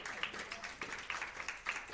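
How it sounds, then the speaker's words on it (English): A small indoor class audience claps lightly, a soft scattered patter of hands at moderate distance, fairly faint and without speech. "You can go ahead and clap with Sharon."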